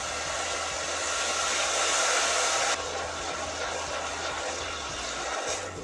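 Water added to hot frying masala in a pan for green beans with fried garlic, a loud broad hissing sizzle that is strongest at first, then drops slightly and continues steadily, with no talk.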